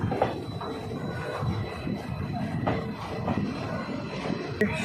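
Low rumble and rolling clatter of the Ramnagar Chandigarh Weekly Superfast Express pulling out of Kashipur Junction railway station, heard steady and moderately quiet with a brief sharp metallic tick near the end.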